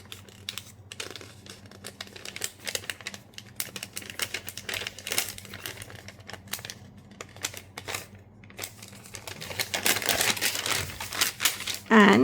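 A sheet of plain drafting paper is handled and folded in half along its centre line, with close crinkling and tapping through most of the stretch and a louder rustling crease near the end.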